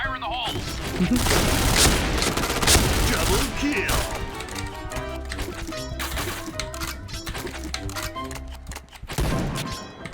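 Explosions and bursts of gunfire in the online shooter Point Blank come as loud, dense, crackling blasts early on, then thinner rattling shots, while players talk excitedly over the action.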